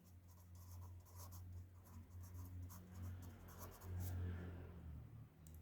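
Pen or pencil writing notes during a biology lecture, faint close scratching strokes in short bursts over a low steady background rumble.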